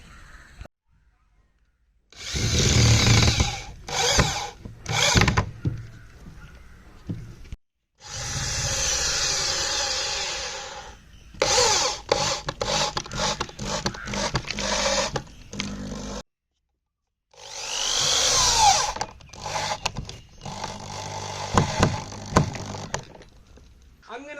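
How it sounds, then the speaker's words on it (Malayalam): A power drill drives screws through edge banding on a handmade floating raft for farming, whirring in several short and longer bursts separated by pauses, close and fairly loud. "നമ്മൾ ഇവനെ ഒന്ന് സ്ക്രൂ ചെയ്ത് വെക്കാനായിട്ട് പോകുന്നത്"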